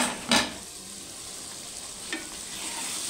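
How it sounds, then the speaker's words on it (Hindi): Dal frying and being stirred in hot oil, a steady soft sizzle with two sharp scraping stir strokes, one early and one near the middle, no talking. "ये अभी फ्राई हो रही है इसमें"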